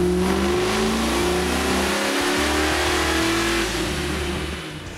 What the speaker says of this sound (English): Power for this one comes from a massed Motorsports LS7 based 427, topped with an LS9 supercharger